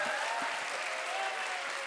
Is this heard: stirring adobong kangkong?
no